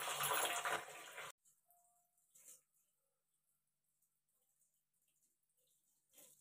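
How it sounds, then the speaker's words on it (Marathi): Chhena for rasgulla is rinsed under running water in a kitchen, a loud gushing splash for about a second, then faint drips and small water movements in near silence. "हे 3 पाण्याने आपण धुवून घेऊया"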